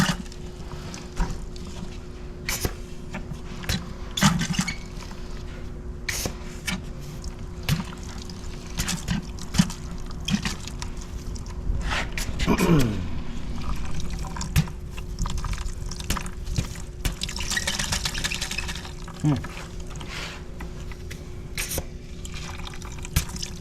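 Oil drains out of a buried tank that was thought to be removed, with an irregular liquid trickling and dripping, splashes and scattered clanks, moderately quiet, with faint background sounds throughout.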